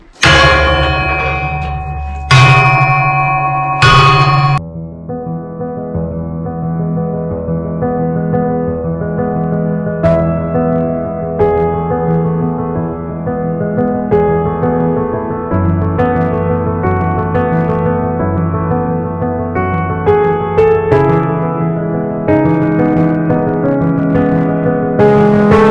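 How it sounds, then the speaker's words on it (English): An old mine's dinner bell rings out loud and sustained, its layered metallic tones hanging in a steady wash after a few sharp opening strikes, with fresh strikes adding accents throughout. "This is the dinner bell, and it sounds like this."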